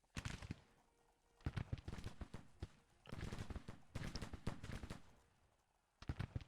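Volleys of musket and rifle fire from Civil War brigades in the strategy game Grand Tactician: The Civil War, dense crackling bursts of many overlapping shots with short pauses between, fairly distant and quiet.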